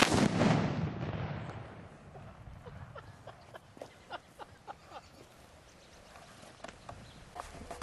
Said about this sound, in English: We're going to do that one more time with an artillery shell.